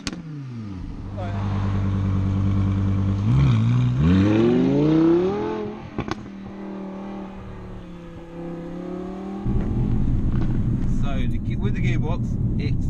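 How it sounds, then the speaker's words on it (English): A 2016 Audi R8 V10 Plus engine revs from idle, climbing sharply in pitch twice, then drops back to a low idle hum before a loud, sustained throttle burst near the end, recorded close by. "Give it a rev, listen to the tone of this car."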